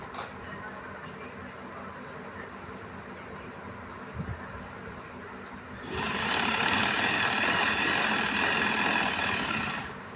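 A sewing machine runs in the background for the first few seconds. It then stitches fabric held pulled tight along the mohri (cuff hem), growing louder and busier and running steadily to the end.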